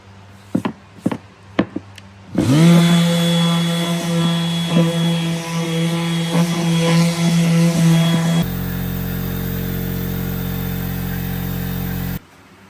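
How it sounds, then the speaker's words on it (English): A few sharp knocks, then a power sander starts up on wood with a steady, buzzing motor whine that runs for several seconds before shifting to a flatter drone. "So we're going to start sanding."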